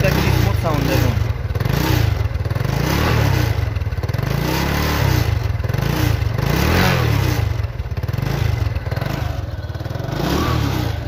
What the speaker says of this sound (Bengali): বাইকটির নিচে একটি স্মুথ সাউন্ড দেখুন